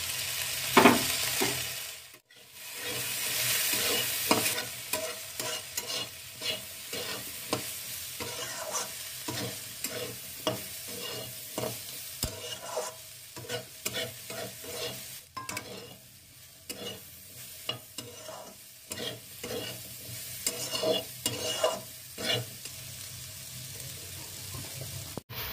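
Chopped chilli, ginger, salt, turmeric and cumin-coriander powder fry in a pan for a Maggi noodle dish, a moderate sizzle with frequent scraping stir strokes and clatter repeating over half a minute.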